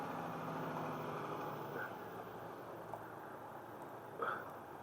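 Diesel engine of a crane truck idling steadily in the foreground, a continuous low rumble with a couple of faint clicks, no speech over it.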